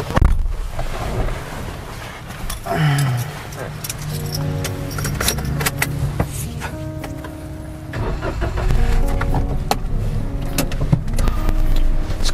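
Car keys jangle, then a car engine cranks and starts and settles into a steady running hum as the car pulls away, with voices and background sound layered over the engine throughout.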